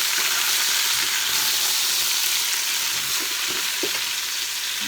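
Onions fry in a pan, producing a steady, loud sizzle that holds evenly throughout, with faint stirring knocks underneath.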